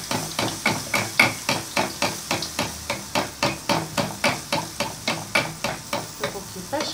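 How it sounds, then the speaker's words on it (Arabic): Khfef, Kabyle sfenj dough, frying in hot oil as the oil is ladled over it again and again, making a steady rhythmic run of close sloshing, sizzling pulses about twice a second, with no talk. "تما نبدا نسقيها بالزيت السخون"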